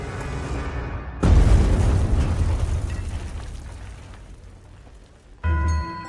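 A large bomb blast goes off in a hall during the assassination attempt on Hitler, a sudden loud boom followed by a long rumbling decay and debris noise, then a second burst near the end.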